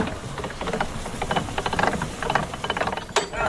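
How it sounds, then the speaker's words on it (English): A steady metallic clicking ratchet from a canal lock sluice mechanism being set, rapid and rhythmic, close by against a rumbling outdoor background. "That is the noise of a lock being set."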